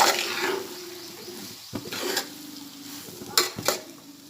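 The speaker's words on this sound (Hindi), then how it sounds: "इसे भी इसमें अच्छे से मिक्स करूंगी।" Kobi snack mixture being stirred in a pan for a Konkani recipe, with a utensil scraping and clinking against the pan in short close bursts and a soft sizzle underneath, no talk.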